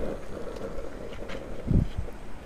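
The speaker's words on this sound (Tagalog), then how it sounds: "Lakas talaga ng hangin mga kababayan" Strong wind blowing outdoors during open-air cooking, a steady rough rush buffeting the microphone with a heavier low gust partway through, no voices.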